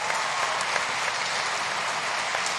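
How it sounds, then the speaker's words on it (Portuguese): Church audience giving a warm round of applause, steady dense clapping throughout at even loudness, with no voices standing out. "você pode já mandar uma salva de palmas bem linda"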